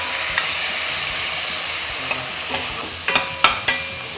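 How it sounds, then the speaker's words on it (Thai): Pork ribs stir-fry with garlic and black pepper in a hot pan, a continuous close sizzle with sharp clattering spatula strikes bunched toward the end, and no one talking. "ซี่โครงหมูเราลงผัด"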